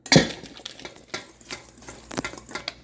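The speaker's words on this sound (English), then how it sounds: "Use a whisk when you make dry ingredients." Whisk scraping and tapping through dry chocolate chip cookie ingredients, including baking soda and cornstarch, in a bowl: quick, irregular clicks and swishes, close up and fairly quiet.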